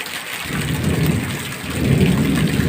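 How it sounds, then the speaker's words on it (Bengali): Steady heavy rain pours down outdoors during an evening storm, with a deep rumble of thunder rolling underneath, loud and continuous throughout. "ওই দেখো বৃষ্টি পড়ছে"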